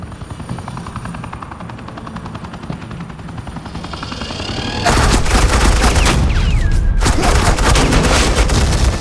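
Dense, sustained automatic gunfire from Batman: The Enemy Within bursts in loud partway through, rapid overlapping shots over a helicopter-like engine drone that fills the scene throughout.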